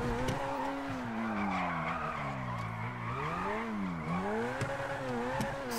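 Car tires squealing and skidding through a mountain drift in GTA V, a sustained wavering screech rising and falling as the slide shifts, over a steady engine roar, continuous and close with no talking.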